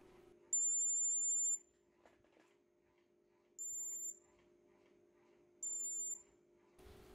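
An Arduino thermal scanner's buzzer sounds three times at high temperature, each a clear, high, steady electronic tone lasting about a second, separated by quiet gaps over a faint hum.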